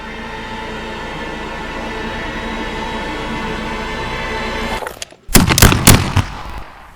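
After a steady rumbling background, a burst of several sharp, loud blank gunshots cracks out in quick succession near the end.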